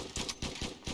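Rapid bursts of gunfire in the video game Pixel Gun, four or five sharp volleys in quick rhythm, fairly quiet and alone without talk.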